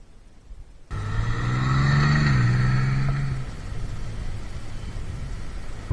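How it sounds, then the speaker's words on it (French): A Honda Gold Wing DCT touring motorcycle engine starts up and hums steadily, its pitch rising and dipping slightly before settling into a low, even drone. "ce moteur légèrement ronflant, mais qui est pas du tout dérangeant"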